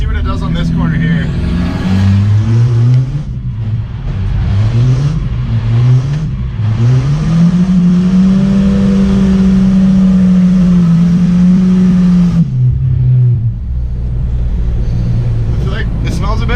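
A Volvo 940 car engine pulls steadily as the car accelerates around a corner, with a loud, sustained drone that rises in pitch, dips briefly and then climbs again, heard close from inside the cabin.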